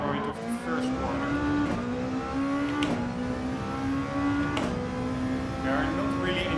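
A race car in Gran Turismo 7 holds a steady, high engine whine, with brief dips as it shifts or brakes for a corner. A voice talks over the engine.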